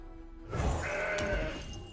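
A Billy Goat card being played in the Legends of Runeterra video game, a single loud, wavering goat bleat that starts abruptly and holds for over a second against a quiet game background.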